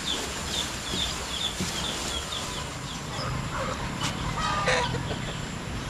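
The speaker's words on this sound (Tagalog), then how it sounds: "Naghuli kami ng manok oh," A freshly caught chicken clucks in a quick run of short repeated calls, fairly faint against broad outdoor background noise, with a few sharper squawks toward the end.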